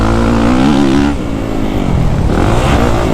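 A 2023 Kawasaki KX450SR 450cc dirt bike engine revs loud and close, its pitch rising and falling, with a brief dip before it surges again.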